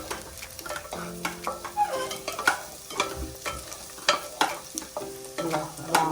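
Roasted semolina (rava) being stirred in a hot pan for pineapple rava kesari, with a soft continuous sizzle and rhythmic spoon scrapes and taps against the metal, and no talking.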